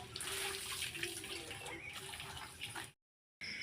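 Water poured and splashed while a clay floor is scrubbed, a steady close rush of water that cuts out abruptly near the end, with no talking.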